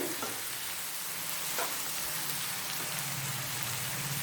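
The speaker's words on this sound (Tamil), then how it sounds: "நல்லா வதக்கலாம். இதை நல்லா கிளறி விட்டு" Onions fry in a pan for paneer butter masala, giving a dense, continuous close sizzle like rain, with a few brief scraping stirs and no voices.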